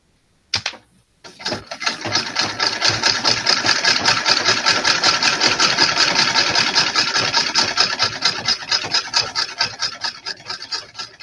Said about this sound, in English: Phoenix, stop yammering and start sewing again.